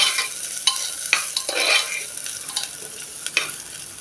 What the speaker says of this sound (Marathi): काजू लवंग परतून झाले की हे धुतलेले तांदूळ त्यामध्ये टाकूया ते तांदूळ आपण आता हे मिनिटभर परतून घेऊया